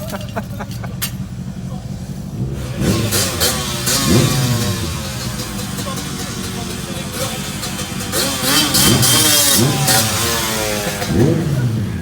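Motorcycle engines rev repeatedly nearby, rising and falling whines passing in bursts, with distant voices faintly under the noise.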